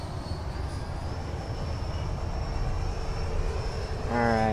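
An E-flite Viper 90mm EDF jet RC plane lands on a runway with a wheelie touchdown. A steady ducted-fan whine and rushing air carry throughout, then rise sharply at the end.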